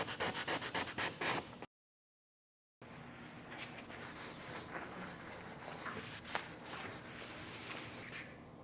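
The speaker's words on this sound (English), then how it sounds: "I'm going to take a sandpaper and just sand that paint down to fiberglass" Sandpaper is rubbed by hand over oversprayed paint on a fiberglass insulated pod, producing a steady, close, dry scratching hiss that continues evenly after a brief gap.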